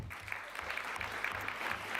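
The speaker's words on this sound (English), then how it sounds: "Please join me in a round of applause." Crowd applause for environmental grant recipients at an eco celebration ceremony, a steady dense wash of clapping that holds evenly for the whole stretch with no voices over it.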